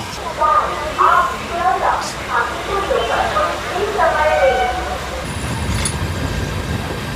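The 13147 Uttarbanga Express, with new LHB coaches, pulls out of Bidhannagar Road station in Kolkata, making a low rolling rumble beneath people talking nearby.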